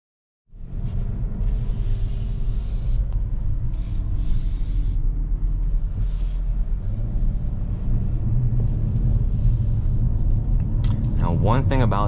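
A 2023 Hyundai Kona N with an 8-speed wet dual-clutch transmission is driven, a steady low engine and road rumble heard from inside the cabin, with a voice speaking briefly near the end.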